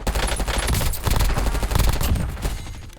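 Rapid bursts of video game gunfire from Warzone crackle in quick succession, dense and continuous, like automatic weapons firing nearby.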